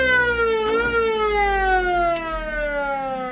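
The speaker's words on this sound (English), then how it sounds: "There's your siren." A 1954 Ford F-800 fire truck's siren wails loud and close, a steady mechanical tone holding and then sliding slowly downward without pause for the whole stretch, with no voices.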